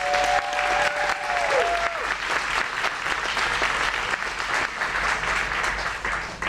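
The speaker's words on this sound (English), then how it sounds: "Can we give them a round of applause?" Audience at an evening political candidates' Q&A event breaks into sustained applause, a dense steady wash of clapping from a sizable crowd that holds for several seconds without letting up.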